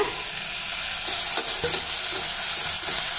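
Onion and a chopped tomato sautéing in a pan for cauliflower kichadi, a steady close sizzle of frying with faint stirring scrapes and no voices.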